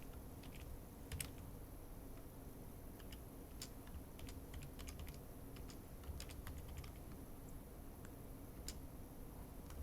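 Light, steady typing on a computer keyboard, a quiet irregular patter of key taps with occasional brief pauses, heard alone and close.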